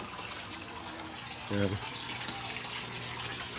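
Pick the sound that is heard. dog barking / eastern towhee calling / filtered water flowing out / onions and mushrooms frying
filtered water flowing out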